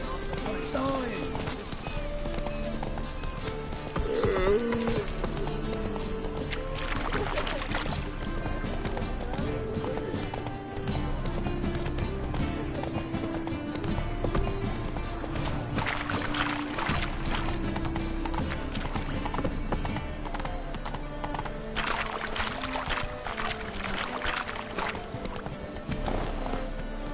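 Roach, a horse in the video game Witcher 3, gallops with rhythmic hoofbeats, joined by occasional neighs, game music and character voices talking over it.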